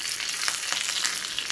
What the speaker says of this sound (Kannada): ಒಗ್ಗರಣೆ ಪಾತ್ರೆಗೆ 1 ಸ್ಪೂನ್ ಎಣ್ಣೆ, ಸಾಸಿವೆ, ಒಣಮೆಣಸಿನಕಾಯಿ 2, ಕರಿಬೇವು ಹಾಕಿ ಫ್ರೈ ಮಾಡಿ